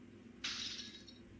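Glass shatters in a horror video game, one sudden bright crash with a short ringing tail over a low droning ambience.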